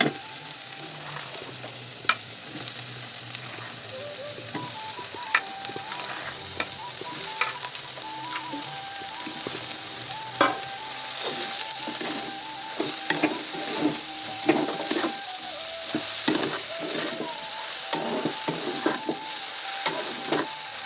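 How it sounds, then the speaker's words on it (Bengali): Prawns and salted water lily stems fry in a pan in a village kitchen, giving a steady sizzle broken by frequent clacks of a utensil stirring against the pan. "চিংড়ি মাছ আমার ভাজা ভাজা হয়ে গিয়েছে, এবারে আমি শালুক নুন মাখানো শালুকটাই ওর মধ্যে দিয়ে দেবো"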